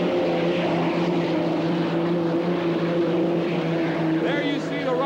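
An unlimited hydroplane racing boat from the 1985 season roars past with a loud, steady engine drone, and a race commentator talks over it throughout.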